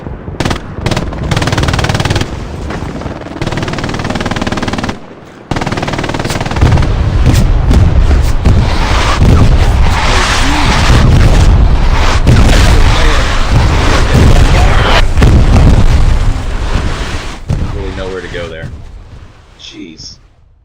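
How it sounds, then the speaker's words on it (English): Incoming rockets explode in a large 50-versus-50 Hell Let Loose battle. Heavy booms roll over a dense bed of machine-gun and rifle fire, staying loud and continuous before fading near the end. "Those are scary rockets coming in."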